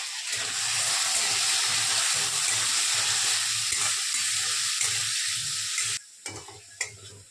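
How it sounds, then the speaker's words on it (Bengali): Potatoes fry in a pan with turmeric and salt, a loud, steady sizzling hiss close up with stirring scrapes, cutting out abruptly near the end, leaving faint clatter. "আলু ভাজা প্রায় হয়েই এসেছে"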